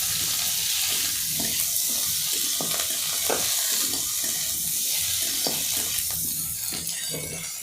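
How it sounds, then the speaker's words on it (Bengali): Chopped tomatoes sizzle steadily in a hot pan for a spicy egg pasta while a spoon stirs them, giving a constant loud hiss broken by soft scraping strokes. "এই টমেটোগুলো দিয়েও ভালোভাবে নাড়িয়ে নেব, যতক্ষণ না টমেটোগুলো ভালোভাবে নরম হচ্ছে"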